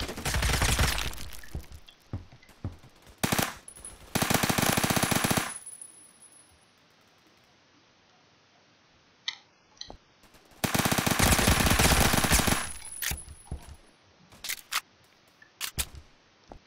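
Gunfire from sniper rifles in the Roblox video game, loud bursts of shots at the start and again around ten to thirteen seconds, with sharp single cracks scattered between and quiet gaps in the middle.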